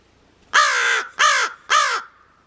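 A raven in a wintry setting gives three loud, hoarse caws in a steady rhythm, each about half a second long, clear and close against a quiet background.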